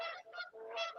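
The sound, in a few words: geese honking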